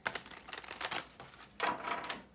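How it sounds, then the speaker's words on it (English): Tarot cards being shuffled by hand, a close, quiet run of rapid papery riffles and flicks in two bursts with a short pause between, no voices. "do a quick shuffle again"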